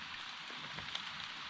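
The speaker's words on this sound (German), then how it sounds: "Jetzt heißt es erstmal wieder ausstehen hier im Regen." Steady rain falls on an outdoor jungle shelter under a palm in Panama, a dense, even hiss of drops with faint scattered patters, continuous and close throughout.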